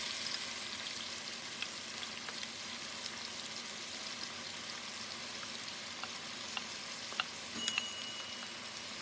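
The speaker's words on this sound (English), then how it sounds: "Then you're going to stir it up" Steak sauce of flour and red wine stirred in a hot pan, a continuous soft sizzle broken by light clicks and scrapes from the utensil.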